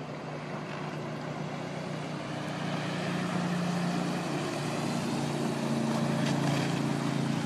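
A motorboat towing a water skier drones steadily at a distance, its engine hum slowly rising and holding as the boat approaches at about 34 mph, with no voices.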